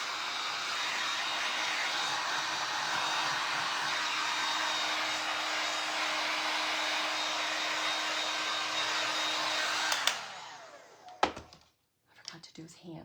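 A hair dryer drying the shoes of a decoupage Santa figure, a loud steady whooshing blow with a constant motor hum that cuts off near the end, followed by a few knocks and thumps.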